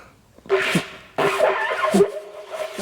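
A former trumpet player buzzes his lips to imitate an elk bugle, giving two long raspy, brassy blasts with a wavering pitch; the sound is close and loud, with no talking.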